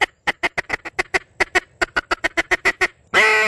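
A rapid series of about twenty short, nasal quacks from a Wingstopper duck call imitating a hen mallard, loud and close, ending in a longer drawn-out note.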